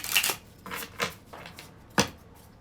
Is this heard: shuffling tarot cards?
yes